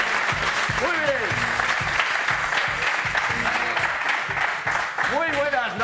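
An audience applauds performers at a live party show, a steady wash of clapping that carries on under a host's amplified voice and a few bursts of music.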